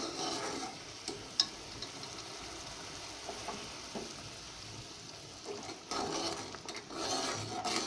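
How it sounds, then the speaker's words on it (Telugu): Semiya kesari cooks in a pot over a low flame, producing a soft, low bubbling simmer with occasional faint clinks and stirring scrapes close by. "ఉడుకుతూ ఉంది సేమియా"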